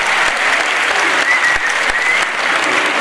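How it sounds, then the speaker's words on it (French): Loud, thunderous audience applause at a Miss Mali France beauty pageant, a dense continuous roar of many clapping hands filling the hall without pause. "un maximum et un tonnerre d'applaudissements pour eux."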